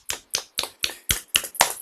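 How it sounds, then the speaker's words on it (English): Online participants clap over a video call, seven distinct, evenly spaced bursts of clapping in quick succession, close and fairly loud, with no talk. "would everyone like to unmute themselves and clap very loudly?"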